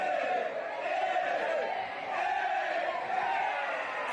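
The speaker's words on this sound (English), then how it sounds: "Crowd really getting into it" Football crowd at a Men's Premier League semi-final between Mindil Aces and a university side, a steady massed roar of cheering and chanting voices sustained throughout at moderate distance.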